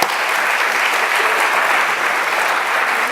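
A gallery audience at the Corcoran breaks into steady, dense applause, loud and even from start to finish with no pauses or voices standing out.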